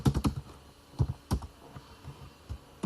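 Keys clatter on a computer keyboard as a command is typed, with quick clusters of close, crisp taps separated by short pauses.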